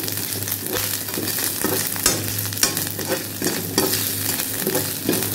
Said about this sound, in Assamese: পাঁচফোৰণ পিয়াজ কেঁচা জলকীয়া আদা নহৰু পেষ্টখিনি আৰু নহৰু তিনি ফুটা মই দিলো তেলত আৰু এতিয়া মই ইয়াতে অমিতাখিনি দি দিম